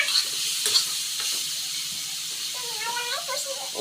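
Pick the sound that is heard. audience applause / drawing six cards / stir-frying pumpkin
stir-frying pumpkin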